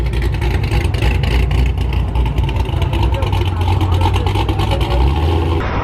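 A turbocharged new car drives with a steady, loud engine drone and rumble that holds throughout, with voices in the background.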